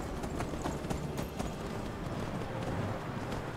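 Horse hooves in Skyrim clip-clop in a steady, quick rhythm as the mount moves along, moderately close and somewhat faint against ambient game background, with no talk over them.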